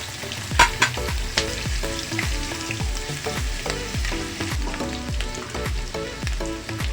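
Garlic fries in a hot pan for Bicol-style laing, a steady, busy sizzle heard close up beneath a rhythmic music track, with no talking.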